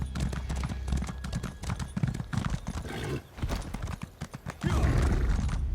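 Horse riding in Elder Scrolls Online, steady galloping hoofbeats clip-clopping close up with a whinny near the end, under game ambience and someone talking.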